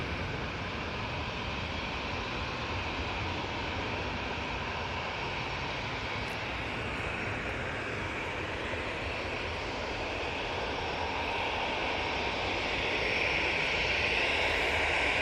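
Airliner on the Palma flight at Manchester Airport, a loud, steady broadband engine roar holding throughout and swelling slightly toward the end, with no voices.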